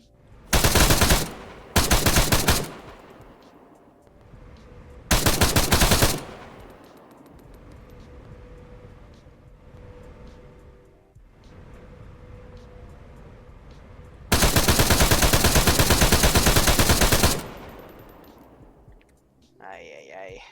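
Gunfire from a mounted gun in an Arma-style military video game: several long, loud bursts of automatic fire, with a brief pause between the first two. A sustained burst near the end stands out over quieter ambient game sound.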